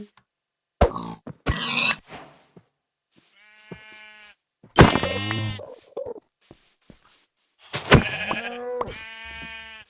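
Sheep bleat in a video game on an island village, several separate wavering cries spaced out, fairly close and clear with no talk.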